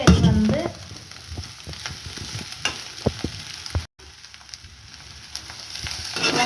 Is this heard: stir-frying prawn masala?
yes